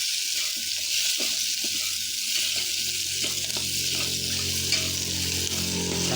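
Squid sautéing in a pan with chili, a steady close sizzle and crackle of frying that runs throughout, with occasional stirring clinks and no talking.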